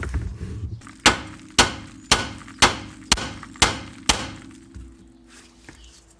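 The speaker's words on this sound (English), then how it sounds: "Just hit the actual part of the hub and that shocks the joint apart." A hammer strikes a car wheel hub to shock the CV joint apart, seven sharp metallic bangs in a steady rhythm about half a second apart, close and loud, each ringing briefly before the next.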